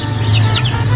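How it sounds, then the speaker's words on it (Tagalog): Chickens cluck close by in short, rapid calls over a low steady hum, with no talking. "Yung mga manok."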